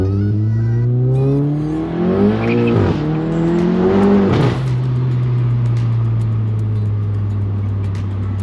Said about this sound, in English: I haven't had a pull like that in a while. Spun a little tire, but these tires are getting kind of bald.